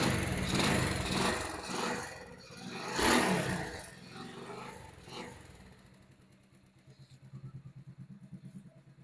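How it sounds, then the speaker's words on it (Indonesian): A small Suzuki motorcycle engine with a faulty, worn state cranks and revs in uneven bursts, then settles into a rapid, putt-putting idle toward the end. "Bentar, kita tes mesinnya."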